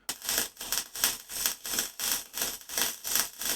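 Rough, crackling MIG welding arc with wire speed set too slow, surging and dropping in a steady stutter about twice per second, sounding uneven and broken up.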